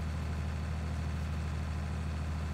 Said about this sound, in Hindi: अबे ये देखो कैसे ट्रैक्टर अभी यहाँ पे जोर लगा रहा है।